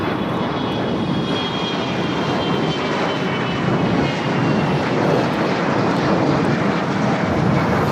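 A heavy airliner on its takeoff roll from runway 25 right at LAX, flight 198 heavy, gives out a continuous, loud, broad engine roar that holds steady for the whole stretch, with no voices over it.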